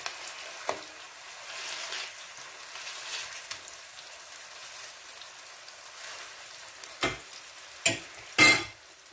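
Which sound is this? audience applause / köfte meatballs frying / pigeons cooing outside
köfte meatballs frying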